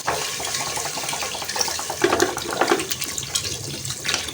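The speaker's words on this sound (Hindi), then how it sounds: "अब हम इसमें डालेंगे 1 लीटर पानी" One liter of water poured into a pot of haleem, a continuous rushing, splashing pour that swells and gurgles for several seconds, close and fairly loud.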